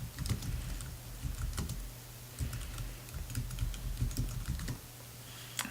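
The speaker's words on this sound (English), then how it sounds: "I'm going to type it in the comments down here." Keystrokes tapping on a computer keyboard while entering a comment in an online Toyota service scheduling form, quick irregular clicks at low level with short pauses and no voices.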